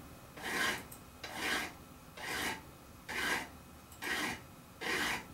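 A file rasps a bevel onto the edge of a guitar fretboard in six slow, even strokes, each a close scratchy rasp separated by brief pauses.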